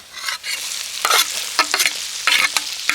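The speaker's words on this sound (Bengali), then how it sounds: "তেলের সাথে একটু নাড়াচাড়া করে নেব" Chopped ginger and garlic crackle in hot oil in a wok for a green mango pickle, with a steady sizzle close by and repeated sharp scraping stirs.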